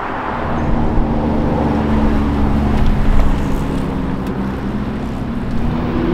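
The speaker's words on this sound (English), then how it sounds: "Oh, this is the 296 GTS from before." Ferrari 296 GTS supercar driving at the Ferrari factory, a steady low engine drone with broadband road and wind rush, fairly loud and continuous throughout with no talking.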